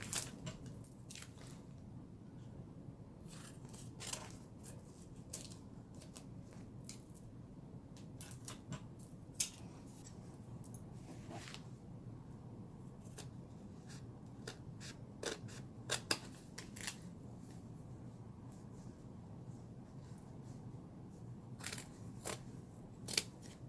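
Scissors snipping through tape-covered letters for a fall pumpkin decoration, a series of quiet, close, irregular crisp cuts over a faint background hum.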